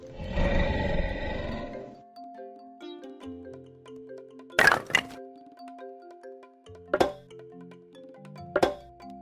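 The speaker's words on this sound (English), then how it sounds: "Dinosaur." A cartoon dinosaur roar effect in a kids' animal-names learning game: a loud, rough roar opens the clip, followed by light musical tones and three sharp cracking hits.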